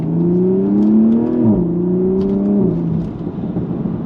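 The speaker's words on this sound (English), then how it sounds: "all the burble they've added and all like the sounds in sport mode and all that kind of stuff, and the turbo spool" A Toyota Supra in sport mode holds a steady, humming engine note with small stepped shifts in pitch, close and loud, with no speech.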